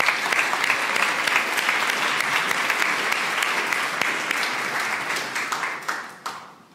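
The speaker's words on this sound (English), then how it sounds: "Can we give them all a round of applause" Sustained audience applause at a college of medicine awards celebration, a dense wash of many hands clapping that holds steady, then tapers off near the end.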